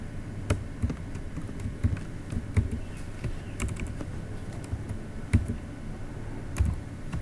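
Quiet, irregular clicking keystrokes on a computer keyboard as code is typed, soft taps with short pauses between bursts.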